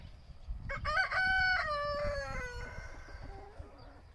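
A rooster on a farm crows once loudly and close, a long harmonic cock-a-doodle-doo that trails off over about three seconds, with faint clucking and farmyard rustle underneath.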